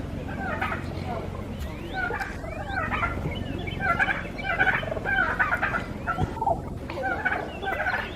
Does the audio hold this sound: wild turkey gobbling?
yes